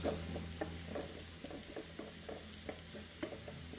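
Garlic sautéing in a pan for a mung bean dish with sardines, a steady sizzle broken by regular scraping stirs, heard close and alone.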